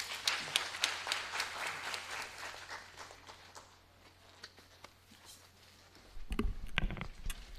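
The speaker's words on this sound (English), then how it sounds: "Let's give a big clap to Alok." Audience clapping for a speaker at a startup ecosystem event, a lively burst that thins out to scattered claps before a louder rustle and knock near the end.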